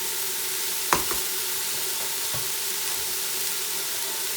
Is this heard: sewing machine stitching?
no